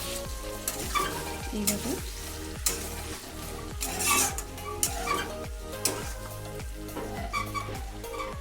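A fish-oil curry with eggplant and potato is stirred in a pan, the spoon scraping in a steady rhythm of strokes over constant loud sizzling, with one brief spoken word.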